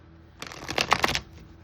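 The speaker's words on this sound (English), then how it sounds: "I've already shuffled the deck, but I'm going to shuffle it a little more." A tarot deck is being shuffled by hand, giving a close, continuous papery riffle of cards that builds over about a second, with no talking.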